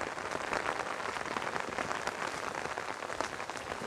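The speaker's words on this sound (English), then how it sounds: "It's always raining all the time." Steady rain falling, a dense, even patter of drops hitting surfaces, continuous and moderately loud with no voices.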